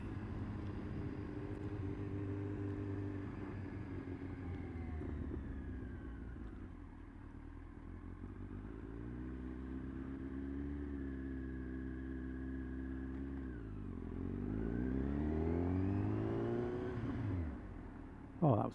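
A Kawasaki Z1000 motorcycle accelerates for an emergency stop attempt, its engine note rising and falling through the gears over some twenty seconds, moderately near, then ending in an abrupt final burst.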